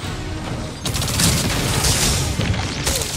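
Gunfire in the video game Destiny 2 during a Gambit match, a dense loud burst of booming shots and explosions that swells suddenly and rolls on continuously.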